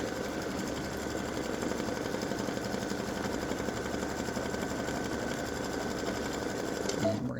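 An embroidery machine stitches a fabric placement line for a dreidel appliqué design, its needle chattering in a rapid, steady rhythm close by for several seconds before cutting off near the end.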